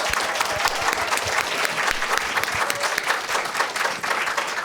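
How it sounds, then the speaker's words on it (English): Sustained, loud applause from a conference audience for a panel of speakers, dense clapping holding steady throughout with no talk over it. "Can we just give one more round of applause to these amazing panelists?"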